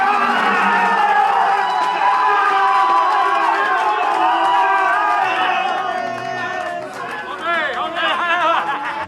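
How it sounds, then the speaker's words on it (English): Loud crowd of spectators roars and chatters at the 24 Hours of Le Mans as a Penske car takes pole position, a steady dense din that dips briefly, then swells again with cheering. "Listen to the crowd."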